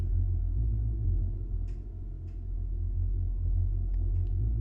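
A deep, droning synth bass rumbles steadily, its level rhythmically dipping and swelling in a pumping pattern, with faint clicks above and no voices.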